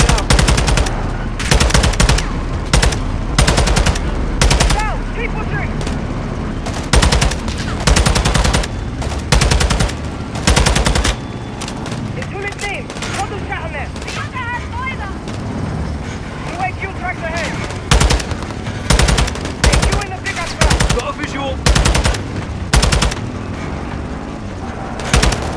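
Machine gun fire in Call of Duty: Modern Warfare 2 (2022), loud repeated bursts of automatic fire with gaps between them, mixed with vehicle rumble and shouted voices.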